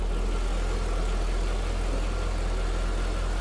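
A 5.7-liter LS1 V8 in a 2003 Chevrolet Corvette 50th Anniversary convertible idles steadily with a constant low rumble, close and alone with no voices.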